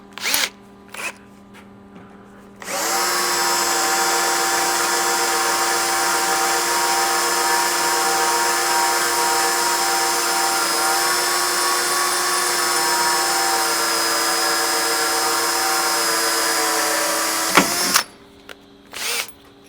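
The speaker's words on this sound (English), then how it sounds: "let's get this pre-drilled, and then we use the stepper bit, get these holes drilled" A step drill bit bores holes through a Toyota Tundra frame for a rock slider install, a steady loud high-pitched whine running about fifteen seconds after a few short starts, then stopping abruptly.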